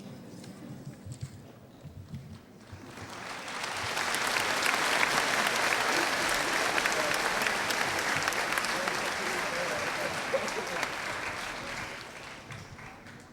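An audience applauds at a 2007 high school graduation ceremony as diplomas are presented. A few seconds of quieter talk and scattered sounds come first, then loud, dense clapping swells and holds for the rest of the stretch.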